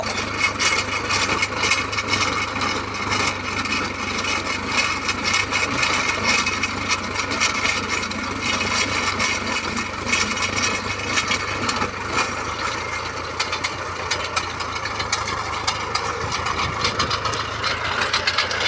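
An engine-powered auger drills holes for planting rubber trees, its motor idling and churning steadily with grinding, rubbing soil and wood scrapes close by, no speech.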